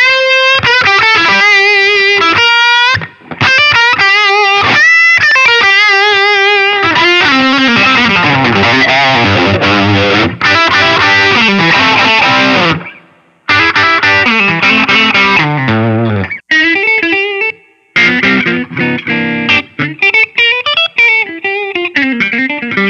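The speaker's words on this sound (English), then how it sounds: "Let's put a little distortion on there." Electric guitar on a Line 6 Variax Standard modeling guitar with distortion applied, playing strummed chords and riffs loud and alone, with brief pauses between phrases.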